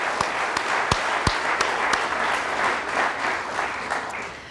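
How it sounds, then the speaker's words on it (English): An audience at an agricultural industry awards and hall of fame ceremony claps for servicemen and women, a full, steady round of applause with a few sharp, louder claps standing out near the start. "one more round of applause"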